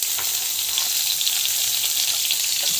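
Mustard seeds, chana dal, green chili, curry leaves and onion fry in hot oil, giving a dense bright sizzle with faint crackles, close and unbroken.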